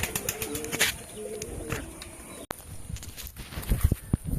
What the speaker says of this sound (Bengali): অলরেডি আমার দুটো পায়রা উড়ছে